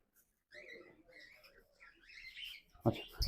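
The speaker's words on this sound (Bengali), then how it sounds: "চমৎকার একটা পাখি দেখতেছিলাম ইয়েলো কালার লাভবার্ড" A yellow lovebird chirps in a bird shop in Narayanganj, with a few soft, fairly close tweets and calls over a quiet room, ending in a brief louder rustle or knock.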